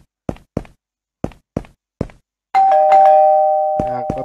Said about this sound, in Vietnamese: bấm chuông nhà ông chủ